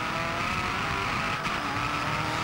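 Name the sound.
race car locking up brakes, tires skidding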